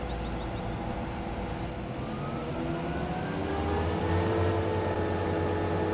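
Krone Big X 580 forage harvester engine in Farming Simulator 15, a steady droning roar with a rising whine as it picks up speed, continuous and without talk.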